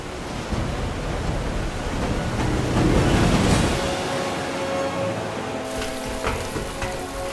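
Waterfalls fed by ponds forming behind hills pour down in a steady, loud broadband rush of water that swells midway and carries on alone without any talking.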